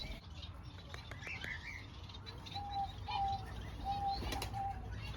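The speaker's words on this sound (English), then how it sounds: "you came out of nowhere, pigeon." A pigeon bursts out and takes flight in an aviary garden in Margate, its wings flapping in a short faint flurry amid soft chirps and quiet outdoor ambience.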